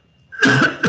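A person with an allergy flare-up gives a sharp, close cough in two bursts, a harsh main cough followed by a shorter second one, loud and alone with no talk over it.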